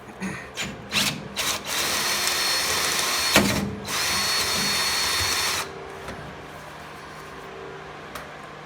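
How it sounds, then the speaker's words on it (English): A power drill whines in bursts, then runs steadily as a step drill bit grinds through a metal leaf spring perch, stopping abruptly partway through; close and loud, no talking. "it's going to let me drill, step out the hole in my spring perch"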